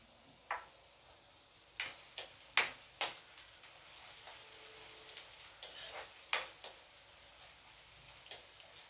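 Onions fry in hot mustard oil in a pan, making a soft, steady sizzle broken by about a dozen sharp, separate clicks and scrapes of a spoon stirring against the pan.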